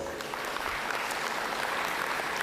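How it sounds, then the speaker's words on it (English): A crowd at the IFSC Oceania Lead Climbing Championships open finals claps steadily for the winners, a soft, far-off wash of continuous applause with no break. "Excellent, give them a round of applause."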